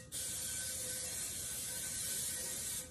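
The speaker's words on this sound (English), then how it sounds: "So I'm spraying the inside so it doesn't stick." Cooking spray hisses steadily into a pan from an aerosol can, one continuous close, loud burst lasting nearly three seconds and then cutting off.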